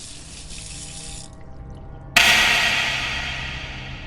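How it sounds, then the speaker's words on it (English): A tap starts with a sudden gush partway through and keeps running steadily after a quieter stretch of faint background hiss. The water splashing is loud and close, with no voices. "She lets the water run."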